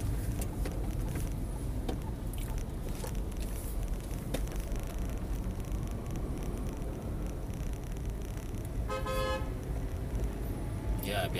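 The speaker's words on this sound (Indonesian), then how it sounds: "Biasa di Kota Medan klakson terus." Busy night street traffic in Medan rumbles constantly, with a car horn honking in short bursts near the end amid engine noise.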